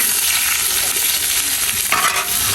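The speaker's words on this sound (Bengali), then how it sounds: "হালকা একটু ভেজে নিচ্ছি আলুটা।" Potatoes lightly frying in a wok, a dense continuous sizzle with stirring scrapes and a brighter clatter toward the end, close and fairly loud with no talk.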